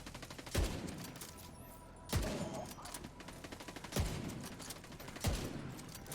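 A sniper rifle fires in the video game The Division 2. Four sharp, heavy shots come at steady intervals of about two seconds, each trailing off before the next.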